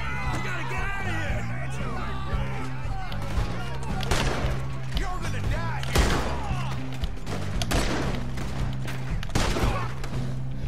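Gunfire from the Red Dead Redemption 2 video game during a riverboat robbery in Saint Denis, with loud, repeated shots and bursts over a busy game soundtrack and voices.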